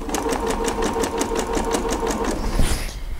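A sewing machine stitches a strip onto white fabric for quilting, running steadily and loudly at a fast even rhythm, then slowing and stopping near the end.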